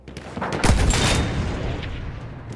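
A field gun fires once in the World War I shooter Battlefield 1, a dull booming thud whose rumble fades slowly over a couple of seconds.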